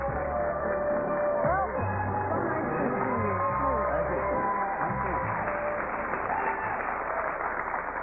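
Studio audience applause for actor Raymond Burr, guest on a 1991 daytime talk show. It is a dense, steady wash of clapping that lasts throughout, with voices and crowd murmur mixed in.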